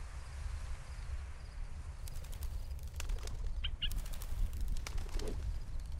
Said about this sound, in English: the bird's just pacing on the windowsill